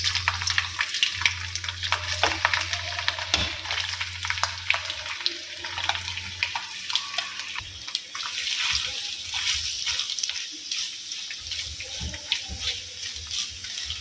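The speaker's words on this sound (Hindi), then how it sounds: "तो जी बस ऑयल हमारा गर्म है। अब बिस्मिल्लाहिर्रहमानिर्रहीम पढ़ के ये डाल देंगे।" Bitter gourd (karela) pieces frying in hot ghee or oil, a steady close crackling sizzle with scattered pops running throughout, loud and continuous with no talking.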